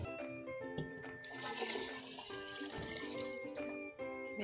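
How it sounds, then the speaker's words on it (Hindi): Water pours and splashes steadily into a pot of gram-flour and spice mixture for kadhi pakora, a continuous gushing sound close by. "अभी हम इसमें ऐड करेंगे पानी।"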